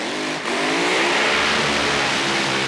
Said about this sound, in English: Dan Pastorini, comes up to do his burnout